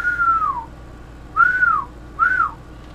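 Whistling into a Cobra 20 Plus 40-channel CB radio microphone: three clear descending whistled notes, one long then two shorter, with gaps between, up close and with no talking.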